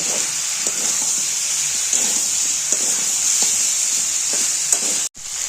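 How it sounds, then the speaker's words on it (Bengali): Spice paste frying with papaya and mung dal in a pan, a steady loud sizzle throughout with soft stirring scrapes, briefly cut off near the end. "একটু নাড়াচাড়া করে মশলাটা কষিয়ে নেব"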